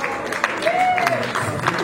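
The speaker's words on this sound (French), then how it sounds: "We will really applaud for them and honor them." A church congregation claps together at an ordination of two pastors in Rochdale, Manchester, the dense steady applause filling the room with a faint tone sounding underneath.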